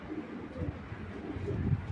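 Racing pigeons cooing softly in a loft, low murmuring calls overlapping through a short stretch with no one speaking.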